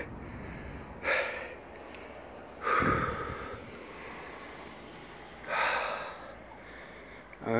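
A person panting from cold shock after entering an ice hole in winter water, with three loud, sharp gasping breaths spaced apart over quiet background.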